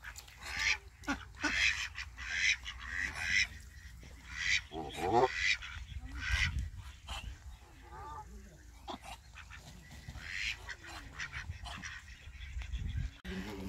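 Ducks and geese call at Burgas Zoo in Bulgaria, scattered quacks and honks at moderate distance, with people talking quietly in between.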